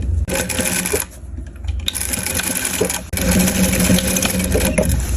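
A sewing machine stitching a dress being remade into a child's dress, loud close rapid mechanical whirring in two long runs separated by a brief pause.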